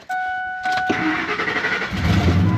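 A starter whirs briefly with a chime in the background, then a 1968 Ford F100 pickup's engine catches and settles into a rough, rumbling idle close by.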